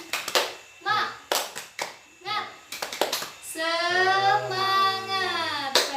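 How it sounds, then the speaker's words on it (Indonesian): Children in a classroom clap in short rhythmic bursts, then chant together in a long sustained shout, all loud and close. "Ayo kita sama-sama ya. 1, 2, 3. Tepuk semangat."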